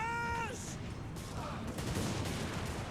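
In a Total War Warhammer 2 battle, gunners fire a rapid crackle of gunshots in the distance, layered with game effects and a short tonal chime near the start.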